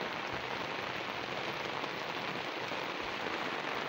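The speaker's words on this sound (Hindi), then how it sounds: "ये बारिश काफ़ी तेज़ हो गई है।" Steady heavy monsoon rain in Punjab, Pakistan, pattering on a surface, a continuous even hiss with no speech or other sounds.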